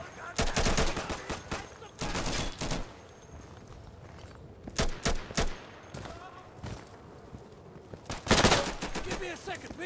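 Heavy gunfire in the video game Insurgency comes in loud, dense bursts of rapid shots. Quieter gaps with softer shuffling sit between the bursts, and a voice talks now and then.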